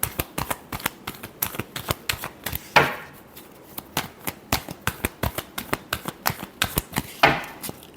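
Tarot cards being shuffled by hand: a run of crisp, closely spaced flicking taps in an uneven rhythm, with two longer riffle bursts, near and alone without talk.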